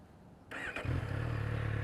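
A Kawasaki Z800 motorcycle engine comes in with a sudden burst and revs up to a steady, buzzing drone close by.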